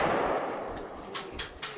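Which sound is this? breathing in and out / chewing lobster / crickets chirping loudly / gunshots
gunshots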